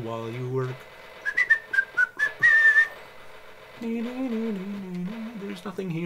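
A man whistles a short tune while playing Space Quest III, a few bright rising and falling notes after a brief hum, with talking before and after the whistle.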